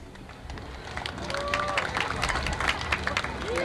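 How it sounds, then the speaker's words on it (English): Arena crowd applauding and cheering for Mr. Rick Davis at the 1989 Canadian championships, a dense sustained roar with clapping that swells louder toward the end, with whistles over a busy hall. "a big round of applause for Mr. Rick Davis"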